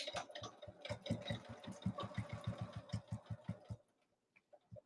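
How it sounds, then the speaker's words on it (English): A sewing machine runs a fast, steady burst of stitches along the 3/8 inch edge of a small lay-flat bag, with a brief backstitch, then stops abruptly into near silence with a faint click. "I'm gonna sew 3/8 inch edge across each one. I'm gonna backstitch a little bit."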